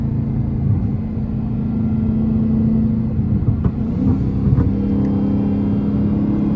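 A Dodge Hellcat accelerates hard from a 60 mph roll on a winter road, its engine making a loud, continuous deep rumble that swells steadily throughout with no talking.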